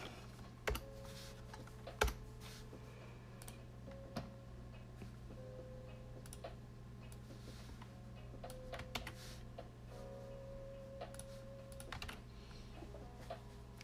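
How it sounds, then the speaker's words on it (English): Sharp clicks of typing on a computer keyboard, scattered and irregular with a few louder key strikes, set over a steady low electrical hum in a quiet room. "Bust out my keyboard real quick."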